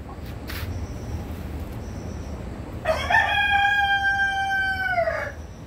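A Light Brahma rooster lets out one loud, drawn-out crow after a few soft clucks from nearby Brahma hens.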